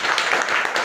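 Children in a classroom applaud a classmate, a brief burst of steady, dense clapping filling the whole moment.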